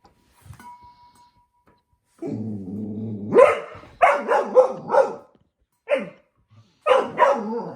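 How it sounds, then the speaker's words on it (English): A dog barks several times in short deep bursts, close by, with a growl-like lead-in and quiet pauses between barks. "You got big boy bark."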